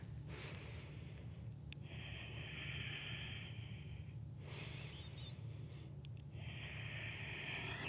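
Slow, quiet breaths in and out during a held yoga pose, soft airy inhales and exhales spaced several seconds apart over a low steady background hum.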